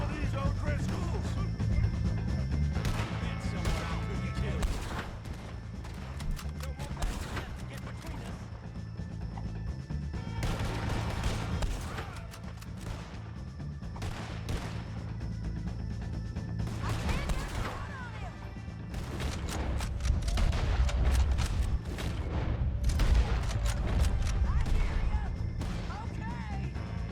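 Red Dead Redemption 2 gunfight in which repeated gunshots and heavy impacts ring out at irregular intervals throughout, layered over game sounds, while a player talks over the action.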